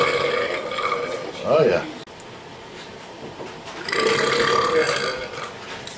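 A couple of deep, guttural burps erupt from a man, one short and croaky early on and a longer rumbling one near the end, close to the mic with brief speech between them.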